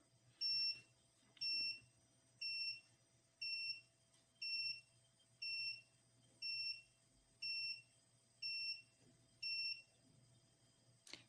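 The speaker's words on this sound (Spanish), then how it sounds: "y demasiados intentos y suena la alarma." A high electronic alarm beeps in a steady rhythm after too many wrong code attempts, ten evenly spaced tones over a faint steady hum.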